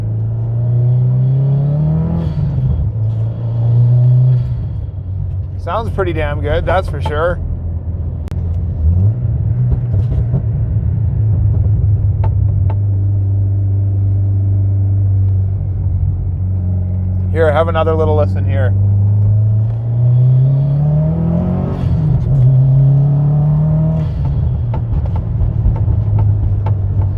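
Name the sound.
2012 Subaru WRX STI driving, loose radio box rattling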